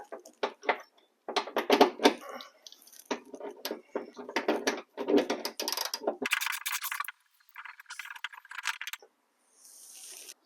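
A ratchet on an extension works loose a tail light nut on a Honda Odyssey, with bursts of quick clicking ratchet strokes and small metallic rattles separated by short pauses, close and moderately loud.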